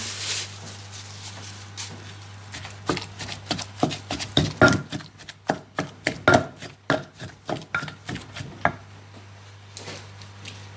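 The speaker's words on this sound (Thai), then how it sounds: "ตำส่วนผสมนี้ให้เข้ากันก่อน นะคะ" Ingredients are pounded in a mortar for a Thai clear soup with ivy gourd leaves and minced pork balls. Steady, close, firm thuds repeat in a quick rhythm over a low constant hum, then stop, with no talking.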